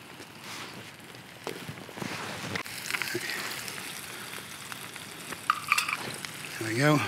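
Chicken stir-fry sizzling and crackling in a pan over an alcohol stove at a tent-and-tarp campsite, a steady close frying hiss with scraping stirs and a brief soft voice near the end.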